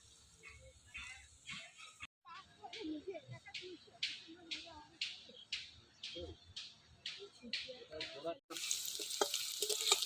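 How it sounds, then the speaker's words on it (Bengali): Potato pieces frying in oil in a pan for a Bengali rice dish, a close sizzle with repeated rhythmic crackling bursts as they are turned, broken by a brief cut and ending in a louder steady hiss. "এই দেখেন আলুগুলো পুরো লাল লাল করে ভাজে নিচ্ছি"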